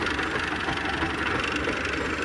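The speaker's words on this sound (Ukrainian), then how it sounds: "Чітко трактор йде, ось як бачите, яке навантаження йде навіть на те колесо, що не в борозні" An MTZ-80 tractor engine drones steadily under load while plowing a soybean field, with a Bomet plow and a homemade mechanical ballast device. The rumble is close, constant and unbroken, with no talking.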